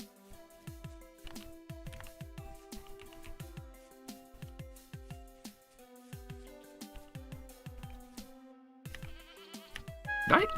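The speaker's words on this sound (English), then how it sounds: "Did I hear goats?" Goats bleat in the survival video game Vintage Story, layered over busy in-game music with many sustained tones, with a louder burst near the end.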